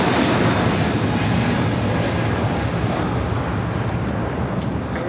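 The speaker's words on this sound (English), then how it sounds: "That is Korean Air Flight 18 Super taking off to Seoul on the A380." Korean Air Airbus A380 taking off, a loud, continuous broadband jet engine roar that holds steady and close throughout, with no pauses or voices.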